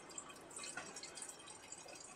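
Water pours into a pot of savoury broken-wheat daliya at home, a faint continuous trickle and splash with light dripping, no voices.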